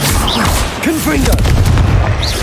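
Confringo spell blasts in Hogwarts Legacy on PC, loud booming bursts amid chaotic spellcasting combat, with a short voiced cry partway through and steady crashing impacts close up.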